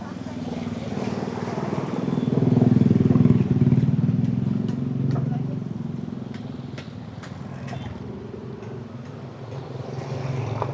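Motorcycle engine and exhaust on a touring ride from Bromo toward Blitar, a steady close-up drone that swells for a few seconds and then holds, with scattered ticks and wind-like noise throughout.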